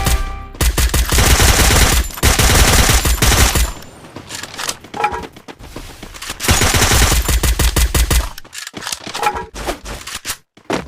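Rapid bursts of automatic gunfire come in a Free Fire battle royale match, with long loud volleys and short scattered shots and quieter gaps between them.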